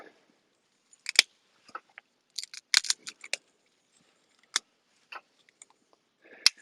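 Scattered snips and crisp cracks of leaves and twigs being cut and broken up small by hand for a beekeeping smoker, irregular close clicks with quiet gaps between them.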